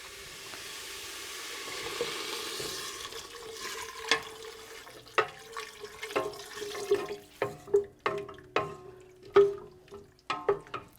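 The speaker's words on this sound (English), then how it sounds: "So we'll add our water." Water poured into a pot of pea soup on the stove, a steady liquid rush with sizzling, followed by a run of sharp clinks and knocks at close range.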